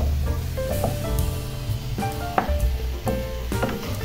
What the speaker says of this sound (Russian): Обжариваем грибы в небольшом количестве сливочного масла.